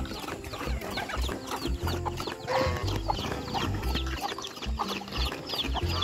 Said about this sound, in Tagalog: may mga manok pa tayo mga boss, oh.